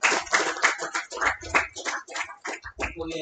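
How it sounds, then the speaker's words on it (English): A group at a barber bootcamp graduation ceremony giving a lively round of applause, close, dense clapping with cheering that rises and falls in quick waves. "get yourselves another big round of applause"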